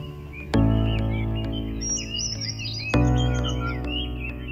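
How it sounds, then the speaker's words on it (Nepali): Birds chirp and tweet in short, scattered calls at a morning campsite on Katak Pahad, sounding fairly faint over a steady, louder tonal hum that swells twice. "कता कता निन्द्रामा सुनिरहेको थिए मिठो चराचुरुङ्गीको आवाज"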